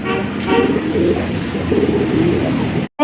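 Pigeons kept for sale coo repeatedly and close by in a soft, throaty rolling rhythm, nearly continuous, ending in a brief cutoff.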